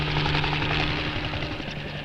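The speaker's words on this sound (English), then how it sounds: "even short journeys must be done by Navy helicopter" A Navy helicopter flies over Antarctic sea ice, its rotor thumping and engine whine forming a steady, moderately distant drone with a faint rhythmic pulse throughout, no voices.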